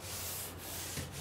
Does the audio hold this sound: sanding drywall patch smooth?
yes